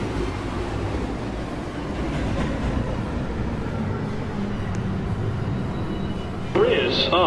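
An NYC subway local 1 train pulls into Lincoln Center station, a steady loud rumble filling the platform with a brief brighter squeal near the end, while an automated announcement plays over it.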